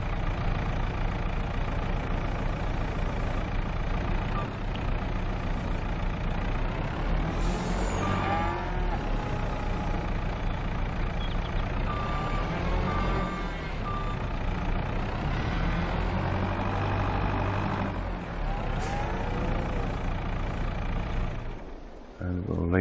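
Lorry reversing in Farming Simulator 22 with its reverse beeps sounding over a steady diesel engine rumble, air brakes hissing now and then, and a person talking across the whole stretch.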